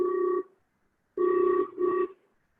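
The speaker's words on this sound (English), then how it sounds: "on the laptop, and it starts ringing also" A laptop rings with an incoming call on a telemedicine consultation setup. A clean electronic ring tone sounds in three bursts, one long, then a long pause, then two quick ones in a row, clear and close with no voices.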